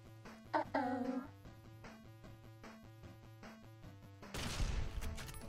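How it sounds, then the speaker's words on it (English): A hostile dog in Fallout New Vegas barks and snarls in short bursts while attacking, over a steady beat of game music, ending in a loud crashing impact. "Bad dog. Stop it."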